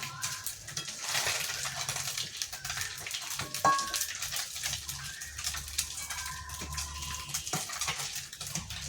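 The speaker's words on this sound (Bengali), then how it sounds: "মাছগুলো কিন্তু আমার প্রায় ভাজা হয়ে গেছে। এবার একটু নেড়ে চেড়ে হালকা নামিয়ে নেব।" Small mourola fish fry in oil with a moderate, steady sizzle and bubbling hiss, broken by occasional utensil clinks and a low hum underneath.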